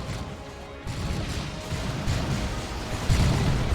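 Stick bombs burst in a chaotic Warhammer 40,000: Dawn of War 2 battle between Orks and Ordo Malleus forces, a string of heavy crashes and booms layered over dense, continuous battle noise, loud and close throughout.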